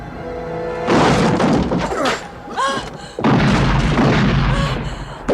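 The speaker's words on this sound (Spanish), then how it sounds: "Tiros por acá, balas por allá" Loud bursts of gunfire and heavy impacts crash through a dramatic scene from the Steven Seagal action film Hard to Kill, with booming shots and clattering debris in rapid succession.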